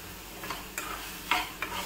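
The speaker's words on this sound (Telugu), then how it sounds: "సో నేను ఇక్కడ 50 grams వేసేసుకొని అయితే ఫ్రై చేసుకుంటున్నాను" Food frying in a pan during home cooking, a low steady sizzle with a few brief scraping stirs, close and fairly quiet, no voices.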